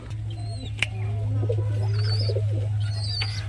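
Newly brought fantail (lakka) pigeons coo softly at home, low murmuring calls over a steady low hum, with a few faint chirps mixed in and no talking.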